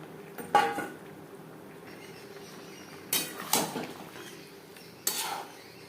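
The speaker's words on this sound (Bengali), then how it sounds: "তিন চার মিনিট রান্না করে নেওয়ার পর দিয়ে দেবো ভেটকি মাছের কাটা" Bhetki fish bones go into a cooking pan amid a few sharp clanks and scrapes of utensils against cookware, spaced apart over a quiet kitchen background.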